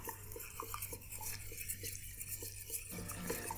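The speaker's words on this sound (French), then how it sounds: "vous mélangez jusqu'à ce que vous obteniez quelque chose d'homogène" A spoon stirring melted chocolate cake batter in a bowl, giving soft, quiet, rhythmic scraping and tapping strokes close up, with no talk.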